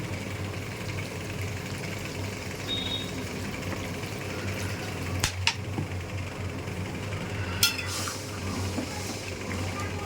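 Water goes into curry sizzling in a pan, a steady close hiss of frying and pouring that runs throughout, broken by a couple of brief utensil clinks near the end.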